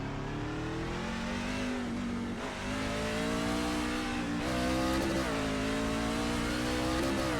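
Truck engine revving steadily while driving in the iRacing sim at Rockingham Speedway, a loud continuous drone rising and falling in pitch with gear changes, close and alone throughout.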